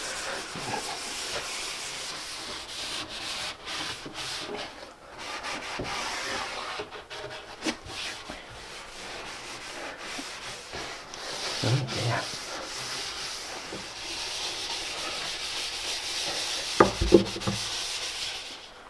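A rag working an oil finish into wood in circles, a soft continuous rubbing and swishing that rises and falls in steady strokes, close and fairly quiet, with a few sharper knocks.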